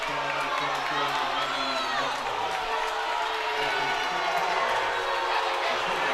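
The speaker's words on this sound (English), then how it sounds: "The crowd incensed." Basketball crowd at a college conference tournament game erupts in loud, sustained shouting and jeering after a foul is called, a dense roar with overlapping voices that holds steady throughout.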